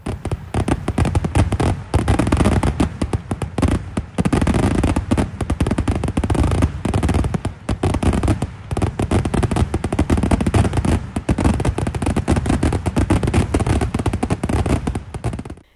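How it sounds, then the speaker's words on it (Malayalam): Fireworks display at the Panthalloor temple festival in Kerala, set off over a paddy field: a dense, continuous barrage of loud crackling bursts and booming explosions for the whole stretch, with no speech. "പന്തല്ലൂർ പൂരനഗരിയിൽ വീണ്ടും വെടിക്കെട്ട് വിസ്മയം വിരിഞ്ഞു"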